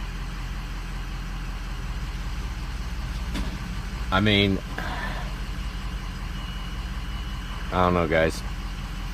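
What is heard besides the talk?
truck engine idling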